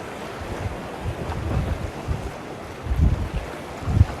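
Sea waves and surf rolling in open water beside a boat, wind buffeting the microphone, with low rumbling swells that build and break in a couple of louder surges near the end.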